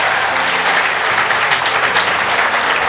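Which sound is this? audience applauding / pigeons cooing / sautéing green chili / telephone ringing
audience applauding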